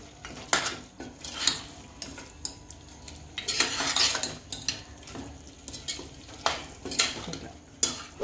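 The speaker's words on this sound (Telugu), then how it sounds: "ఒక 5 నిమిషాలు మనం ఒక్కటే ఇట్లా మంచిగా ఫ్రై చేసేది" Mutton fries in a pan for a mutton gravy while a metal spoon scrapes and stirs it in repeated strokes. A soft sizzle runs underneath, and there is no talking.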